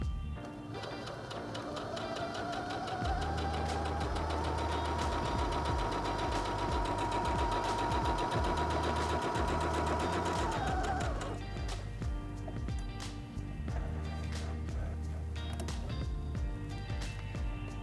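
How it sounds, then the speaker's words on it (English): A Singer HD6805 Heavy Duty sewing machine sews a test stitch, its motor whirring up and holding a steady humming rattle for several seconds before winding down, with quieter clicks before and after. "step on the foot control to start sewing"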